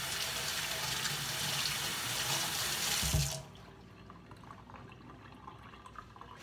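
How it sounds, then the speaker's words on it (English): Tap water running steadily over hands at a sink, close and loud for about three seconds, then shut off, leaving faint drips and small handling sounds. "And wash my hands good."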